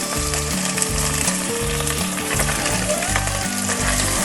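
Carrot, beans, potato, peas and green chillies fry in a pan for veg pulao, producing a loud, steady close-up sizzle with repeated rhythmic stirring thuds.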